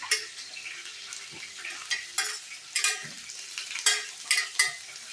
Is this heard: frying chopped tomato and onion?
yes